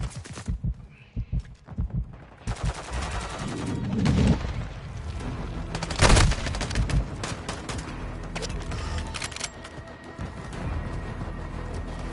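Heavy gunfire from a Call of Duty Hardpoint match: bursts of rifle and automatic fire with booming impacts, loudest around the middle, keeping up a dense, continuous battle din throughout.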